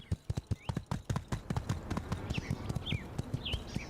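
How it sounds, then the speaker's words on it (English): Horse hooves clip-clop at a steady trot in the video game My Time at Sandrock, a close, regular run of sharp knocks, with small chirpy game sounds layered on top. "Alright, horsey, you can follow me around."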